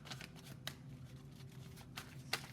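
Tarot cards are shuffled and drawn by hand, giving a soft, continuous riffling and sliding with a few sharper snaps of cards being pulled, close and fairly quiet.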